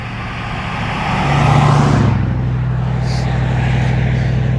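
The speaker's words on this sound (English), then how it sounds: "See this truck coming?" A truck passes along the roadside beside fishing ponds, a loud broadband roar swelling with a droning engine tone, peaking near the middle and then easing into a steady rumble.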